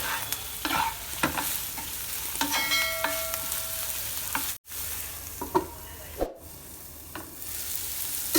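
Soya chunks are stirred in hot oil in a home kitchen pan, giving a steady close sizzle broken by scraping stirs and light clinks of the spoon, with two brief moments of near silence.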